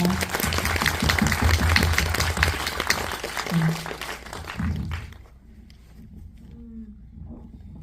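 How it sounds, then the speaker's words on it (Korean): Audience at an indie film talk event applauding the director, a loud dense burst of clapping that fades away around the five-second mark, leaving quiet room sound and faint murmurs. "감독님께 큰 박수 부탁드립니다."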